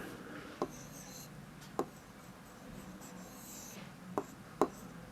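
A pen writes Urdu words by hand, giving a faint, soft scratching with a few sharper taps at irregular intervals, close and quiet.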